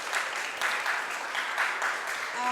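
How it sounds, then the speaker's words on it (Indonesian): Audience applause at an on-stage company event, a dense steady wash of many hands clapping that swells in waves and carries on throughout the clip. "Tepuk tangannya juga, yuk."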